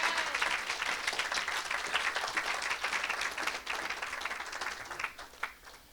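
An audience at a preacher's church service bursting into dense, sustained applause and clapping, loud and even throughout before tapering slightly at the end.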